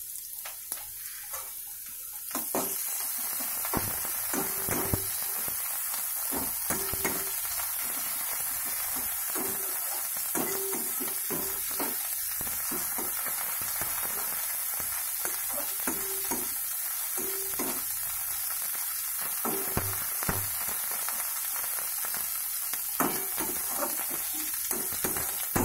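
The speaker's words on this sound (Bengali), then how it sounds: "পেঁয়াজটা ভাজা হচ্ছে, এবার আমি দেবো আদা রসুন পেস্টটা।" Onions frying in a pan with ginger-garlic paste stirred in, a steady close sizzle with repeated scraping stir strokes throughout, no voices, for a Bengali koi fish dish.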